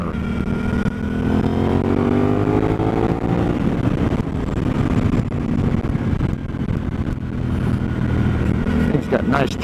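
A Suzuki DL-800 motorcycle rides along a winding road, its engine loud and close with rising and falling revs through gear changes, wind noise underneath and a rider talking over it.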